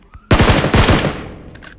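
Automatic gunfire in PUBG rattles out as one loud, rapid burst of shots that starts sharply and fades away over a second or so.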